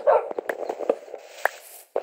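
A dog in the Minecraft TerraFirmaCraft mod lets out a rapid series of short barks and yips, close and moderately loud, with a few sharper clicks mixed in, no talking.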